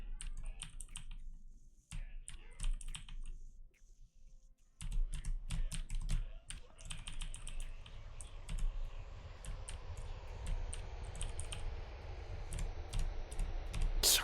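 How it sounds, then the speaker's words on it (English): Typing on a computer keyboard during a Will You Snail speedrun, rapid bursts of clicking keystrokes, close and fairly quiet, with short pauses and a brief gap before resuming over faint background game sound. "Sorry for typing an essay."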